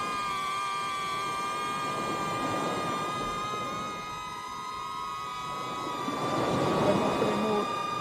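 A DJI Neo drone hovering in follow mode gives a steady high whine with several tonal harmonics that swells and dips as it moves, while voices talk nearby.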